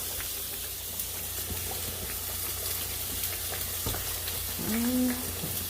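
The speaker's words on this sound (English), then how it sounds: "So I put a little bit of oil for it to start cooking a little bit better" Steak frying in oil in a pan, a steady soft sizzle running throughout at moderate level, with a few faint clinks and a brief louder hiss near the end.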